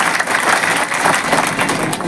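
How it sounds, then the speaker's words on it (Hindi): Loud, sustained applause from a large crowd at a political by-election rally in Katehari, Ambedkar Nagar, a dense wash of clapping filling the whole stretch without a break. "एक बार अपने लिए जोरदार ताली बजाइए आप लोग"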